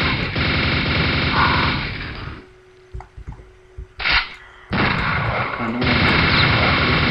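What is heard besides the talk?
gun-like shots in the video game Alba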